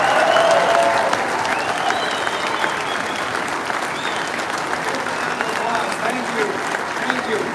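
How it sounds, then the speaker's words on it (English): Crowd at a political rally in Fredericton applauding soldiers serving at CFB Gagetown, a sustained roar of clapping and cheering from a packed room lasting several seconds, with voices mixed in. "Give them a round of applause."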